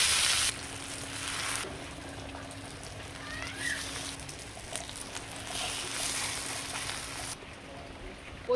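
Egg paturi wrapped in pumpkin leaves frying in oil, a soft, fairly faint sizzle that rises and falls in patches, with light stirring noises and a low steady hum underneath.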